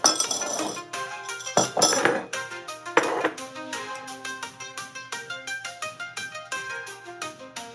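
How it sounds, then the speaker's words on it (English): Glassware chiming and clinking during coffee brewing, a spoon stirring against glass: bright ringing tones struck over and over in a fairly steady rhythm, close and moderately loud, with no talking. "this is just brewing coffee, another way of brewing coffee"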